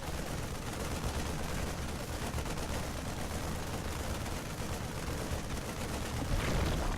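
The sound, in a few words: Marines firing at a hatchery in StarCraft II video game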